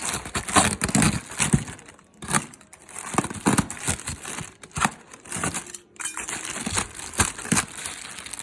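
Crinkling, tearing plastic and cardboard packaging sounds as a box holding a DeWalt 8 1/4 inch table saw is cut open, coming in irregular close bursts with brief pauses, no talking.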